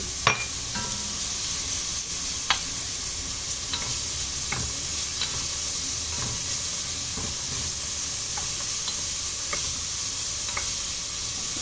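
Chopped onion and minced garlic sautéing in a pan for a bolognese sauce, a soft continuous sizzle with occasional crackles and light stirring clicks, no talking.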